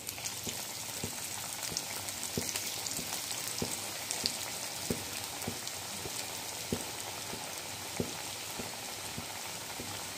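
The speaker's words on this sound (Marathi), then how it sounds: "तर आता आपल्याला तेलामध्ये क्रिस्पी तळून घ्यायचे आहेत चांगले." Coriander vadi pieces deep-frying in hot oil in a kadhai, a steady dense sizzle and crackle with regular soft popping bursts throughout, close and fairly quiet with no talking.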